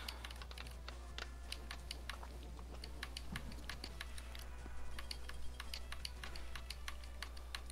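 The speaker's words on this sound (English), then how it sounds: "I keep hearing you clicking, like, really loud." Loud, rapid clicking from a computer mouse or keys, a dense run of sharp taps at close range over a low steady hum, with no talking.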